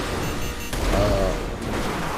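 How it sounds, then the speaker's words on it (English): A missile explosion in GTA 5 Online hits behind the player, a deep rumbling boom that swells around the one-second mark over a continuous dense roar of game noise, fairly loud throughout. "you heard the explosion behind me"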